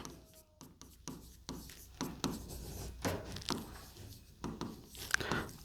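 A question being written on a classroom board, with close, quiet, irregular scratching and tapping strokes that continue without talk.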